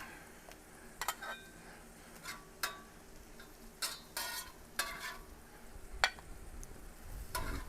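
Sausage patties cook outdoors with a low sizzle, broken up by intermittent scraping and clanking bursts of a spatula or utensil.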